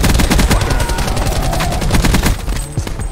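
Rapid close gunfire in the Call of Duty: Black Ops 4 campaign, a dense stream of sharp, loud shots with machine-gun-like rhythm lasting the whole few seconds, with no speech over it.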